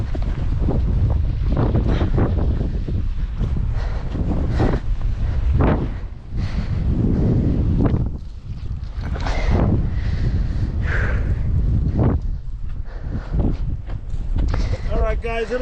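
Strong wind roars across a snowy mountainside in a blizzard, a loud, steady gusting rush that buffets the microphone throughout, with people talking over it.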